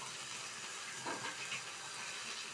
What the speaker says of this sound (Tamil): அதுக்காக தான் நான் சிம்மில் வச்சு வறுக்கிறேன்.